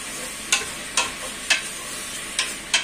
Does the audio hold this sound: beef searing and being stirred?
yes